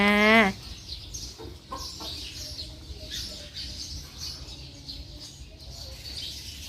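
A chicken lets out one loud, close cluck, followed by faint chirps and clucks under a steady, noisy outdoor background.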